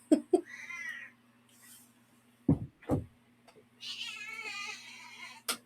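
A cat meows several times at close range, some calls short and chirpy, others drawn out and whiny, separated by quiet gaps.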